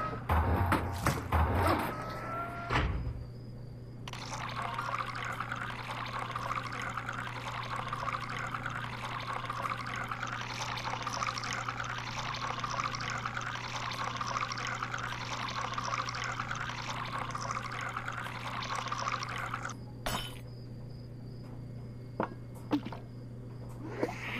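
Liquid pouring in a steady stream for a long stretch, meant as smoothie poured in the virtual reality game Job Simulator, with a low steady hum underneath and a few clicks at the start and end.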